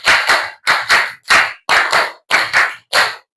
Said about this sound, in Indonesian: Tepuk 1, tepuk 2, tepuk 52 kali